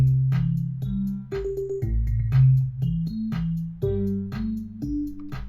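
Beginner-made electronic melody of long, held synth notes stepping up and down, each tone sustained about half a second over a low backing part, steady and fairly loud with no talking.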